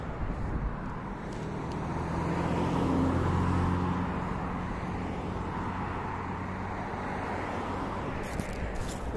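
Road traffic passing along a street, heard while walking and running outdoors: a continuous broad rumble of engines and tyres with a swell as vehicles go by around the middle, moderately near, with no talk.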